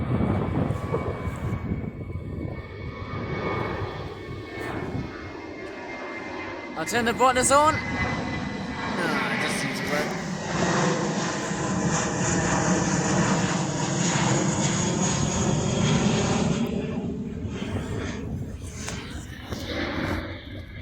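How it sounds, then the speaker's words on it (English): A Vueling passenger plane taking off produces a loud, sustained engine roar that swells and persists, while a person talks nearby over it. "And we've got a plane that's taking off."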